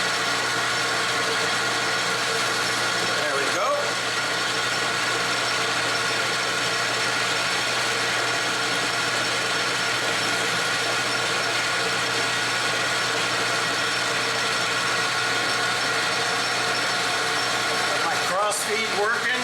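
A metal lathe faces off a protractor fine-adjustment part, holding a steady droning hum with a constant tonal whine throughout, broken by a couple of brief scraping ticks.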